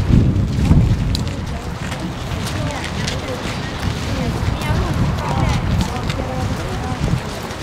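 Strong wind buffets and roars across the microphone in gusts, with water and boat noise underneath and a voice speaking, during a sailing regatta race.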